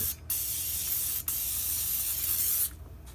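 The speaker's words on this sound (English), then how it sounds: "spray it down with some olive oil spray" Olive oil cooking spray hisses from a can in two steady bursts, a short one then a longer one, close and loud in a kitchen with no talking.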